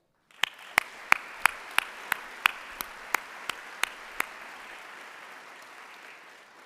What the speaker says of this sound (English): let's give a big round of applause for the folks in the pack that made this all possible